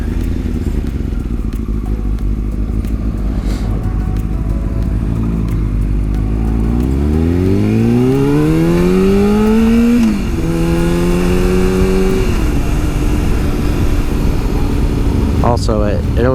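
A 2002 Yamaha R6 is ridden: steady loud engine drone and wind rush, then the pitch climbs smoothly as it revs up through a gear, dips at a shift and holds at a higher whine, with a voice talking over it.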